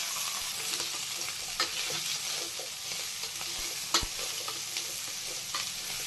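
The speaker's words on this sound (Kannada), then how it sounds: "ಮೀಡಿಯಂ ಫ್ಲೇಮಲ್ಲಿ ಚೆನ್ನಾಗಿ ಹುರ್ಕೋಬೇಕು." Ridge gourd stir-fries with tomato and onion in a pan over a medium flame, a close steady sizzle broken by repeated scraping and tapping strokes of a spatula.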